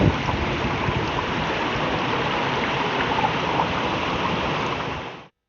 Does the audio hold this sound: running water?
yes